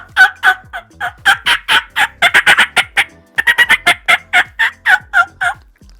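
A latex-reed diaphragm mouth call imitates a wild turkey, producing a raspy, fairly low, rapid series of yelps, about two dozen close and loud notes in quick, uneven bursts with no talk.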